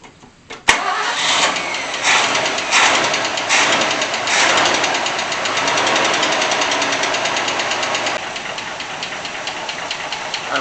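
A 1964 Ford Falcon engine, revived after 47 years in storage, cranks and catches, then settles into a steady, rough idle that runs loud and continuous, with slight knocking, close to the microphone.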